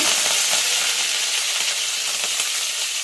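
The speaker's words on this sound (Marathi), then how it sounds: "मोहरी तडतडली का मोहरी चांगली तडतडून द्यायची" Mustard seeds splutter and crackle in hot oil in a home kitchen pan, a steady loud sizzle with dense popping that runs unbroken for a few seconds.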